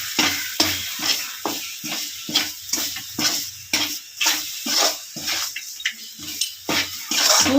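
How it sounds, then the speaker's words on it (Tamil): Mutton kulambu, about three-quarters of a kilo of mutton cooked village style at home, is stirred in a pan: rhythmic scraping strokes over a continuous close sizzle and frying hiss, with no one speaking. "இப்போ இதை நல்லா கிண்டி விட்டுக்கிறோங்க."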